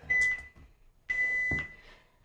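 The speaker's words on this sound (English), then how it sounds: "That's the buzzer, folks." A workout timer buzzer sounds two sustained electronic beeps, each about half a second long, separated by a short gap and heard clearly with little else around them.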